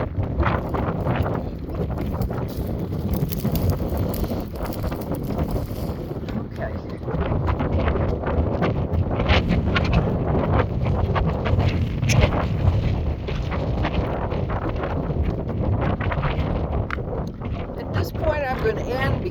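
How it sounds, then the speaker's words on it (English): Strong outdoor wind buffets the microphone throughout with a steady, heavy low rumble and roar during a windy drive with a horse, and a voice talks over it. "I'm going to end because I can't get out of the wind at all."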